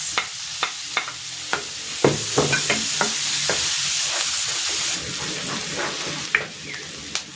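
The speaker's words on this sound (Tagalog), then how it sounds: "Igigisa ko na dito yung bawang. At ang sibuyas." Garlic and onion sautéing in a pan, a steady bright sizzle with regular clacks of a utensil stirring against the metal, close and fairly loud, no talking.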